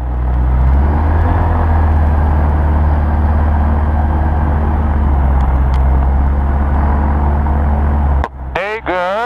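A gyroplane engine drones steadily while the aircraft taxis, a loud, even hum with a low rumble that holds for most of the clip before a short voice cuts in near the end.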